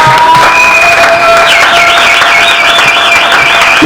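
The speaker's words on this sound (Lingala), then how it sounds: "Acclamons Jésus." A church congregation cheers and claps loudly in acclaim of Jesus, with high warbling cries riding over dense, sustained applause for a few seconds.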